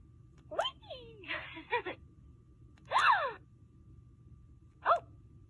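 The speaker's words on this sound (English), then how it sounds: "Like a gasping sound." A Trolls doll makes electronic gasping sounds when its button is pressed, three or four short breathy voiced gasps with sliding pitch, separated by brief silences.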